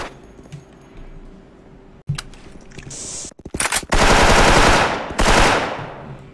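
Gunfire in a Special Force esports match: scattered shots early, then heavy bursts of automatic rifle fire in the final seconds, loud and close, with brief mechanical clicks between volleys.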